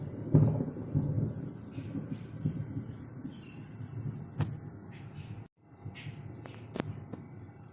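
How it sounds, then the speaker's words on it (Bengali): Thunder rumbling during monsoon rain, low rolling booms over a steady wash of rain, with a sharp crack partway through and a short drop to near quiet. "আবার মেঘ ডাকছে, বিদ্যুৎ চমকাচ্ছে দেখছি।"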